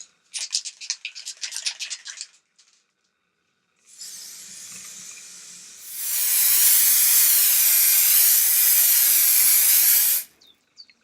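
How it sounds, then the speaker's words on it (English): A PlastiKote aerosol spray paint can sprays a blue sign plaque in one long, loud, steady hiss of about four seconds. It comes after a burst of rattling and a shorter hiss, then cuts off sharply. "So I'm ready to start spraying."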